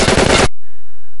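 A loud, rapid burst of automatic gunfire in the Spider-Man 2: Enter Electro video game lasts about half a second, then cuts to near silence with a faint electronic hum.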